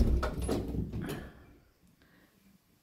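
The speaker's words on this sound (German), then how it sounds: "Tür." A door in the ground-floor entrance hall of a new-build house in Bar, Montenegro, opens or closes with a short scrape and a knock, then the room goes quiet.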